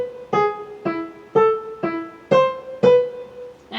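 Solo piano plays the third and fourth measures of Schumann's The Wild Horseman, six crisp detached notes in an even, bouncy rhythm, close and clear with no talking.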